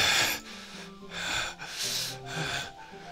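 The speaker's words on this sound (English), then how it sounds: "It sounds like breathing. Sharp inhale, like someone is sucking the air through their teeth." Sharp inhaled breaths sucked through teeth in the video game Doki Doki Literature Club+, a few close, hissing gasps in a row with brief pauses between them, no talk.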